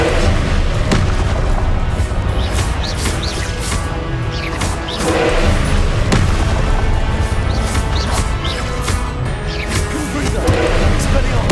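Repeated Confringo blasting spell explosions in the video game Hogwarts Legacy pop and boom loudly amid a busy combat soundscape, with sharp bursts every second or so and voices calling out spells.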